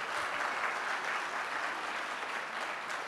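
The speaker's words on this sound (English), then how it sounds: "A big round of applause." Steady, dense applause from a large crowd, loud and continuous throughout with no voices standing out.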